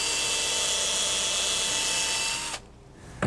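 A small power drill bores a pilot hole for a nail during a simple DIY project with kids: a steady, close, high-pitched whine that runs alone for about two and a half seconds, then cuts off abruptly into near quiet.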